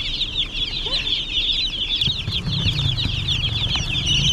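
A brood of young chicks keeps up a constant chorus of shrill, high peeping at close range, over low background rumble and some handling noise.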